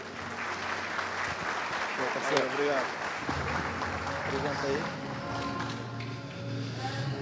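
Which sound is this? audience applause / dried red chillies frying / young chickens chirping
audience applause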